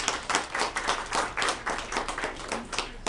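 Steady applause from a crowd, many hands clapping densely and continuously at moderate volume, no voices above it.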